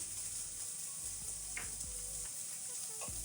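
Browned meat sizzles steadily in a pan as tomato paste goes in, a constant close frying hiss broken by a few soft stirring scrapes, with no voices.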